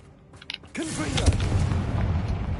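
A Confringo explosive spell goes off in Hogwarts Legacy, a single booming blast that swells suddenly and then rumbles on loudly, with ambient game sounds layered over it.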